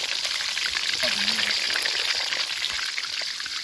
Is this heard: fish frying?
yes